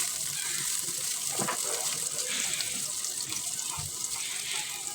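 Chopped onions sizzle in hot oil while a tilapia and taro curry is cooked, a steady close hiss of frying with soft crackles throughout.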